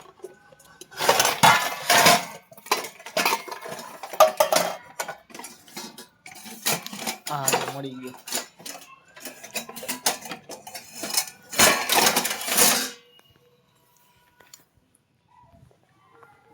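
Metal utensils clatter and clink in quick, irregular bursts as someone rummages through a pile of kitchenware for a ladle; someone talks briefly during the search before the noise stops.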